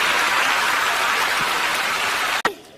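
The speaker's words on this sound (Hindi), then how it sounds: "जोरदार तालियां" Steady, dense applause from a TV game show studio audience, a continuous hiss of many hands clapping that cuts off abruptly near the end.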